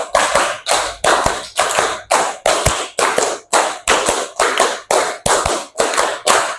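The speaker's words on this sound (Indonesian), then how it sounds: "tepuk 1, tepuk 2, tepuk 3, tepuk 4, tepuk 5, tepuk 5 kali." A classroom of students clapping in unison, fourteen sharp, evenly spaced claps in a quick steady rhythm, loud and close with no talking.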